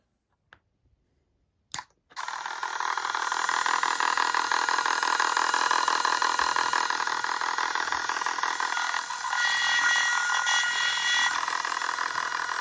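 A faulty elevator servo on a 30-inch RC Spitfire model plane gives a loud continuous electric buzzing whine after a couple of faint clicks, holding steady for about ten seconds with a slight change in tone near the end.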